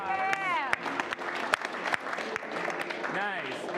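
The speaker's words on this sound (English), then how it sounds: "Give yourself a round of applause" Improv comedy show audience clapping, a scattered applause heard beneath a speaking voice that carries over it, with some sharper individual claps standing out and the clapping fading as the talking continues.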